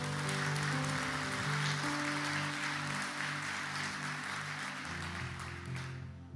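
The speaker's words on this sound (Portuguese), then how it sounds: "pode aplaudir o Senhor." A church congregation applauds during a sermon, steady clapping over sustained organ or keyboard chords, fairly distant and even throughout.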